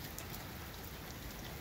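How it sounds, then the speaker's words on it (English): Steady rain pattering densely on a surface, a constant hiss with no voices. "Just a rainy day out here"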